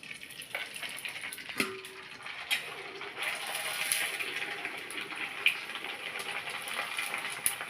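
Homemade leaf vadam (ilai vadam) puffs up in hot oil with a continuous bright hiss and a few scattered crackles and pops, heard up close.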